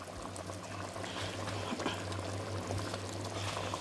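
Veal stew simmering over low heat in a pot, giving a soft, steady bubbling and gentle liquid burble with a faint low hum underneath, quiet and continuous throughout.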